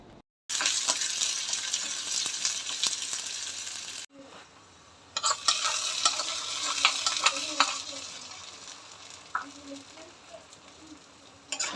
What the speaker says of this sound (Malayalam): അപ്പം കടുക് കൂടെ ഒന്ന് വറുത്ത് ചേർക്കട്ടെ